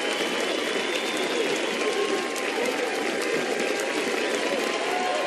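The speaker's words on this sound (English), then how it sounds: "And deservedly so, the standing O from the crowd" Stadium crowd at an NCAA softball Super Regional between Oklahoma and Alabama rises in a standing ovation for a freshman pitcher leaving the game, a steady, dense wash of applause and cheering holding level throughout.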